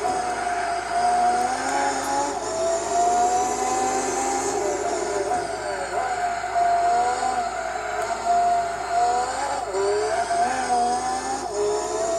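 Race car engine in Gran Turismo 4 during the Tokyo R246 300 km endurance race, a steady loud drone with shifting pitch as the car accelerates and eases off, continuous throughout with no talk.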